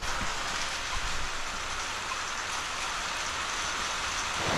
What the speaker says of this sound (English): There's the rain. It's watering all the pumpkins.